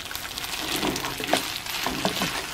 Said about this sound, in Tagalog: Haluin pa natin ng konti para ma-dry pa siya